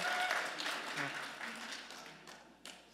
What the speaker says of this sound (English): We're going to save our applause for him, please.